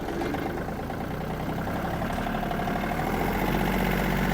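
Yanmar AF-26 mini tractor engine running steadily in a faster gear, a continuous loud mid-low drone with even tone and no pauses throughout.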